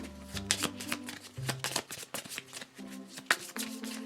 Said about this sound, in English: I do have to shuffle the action deck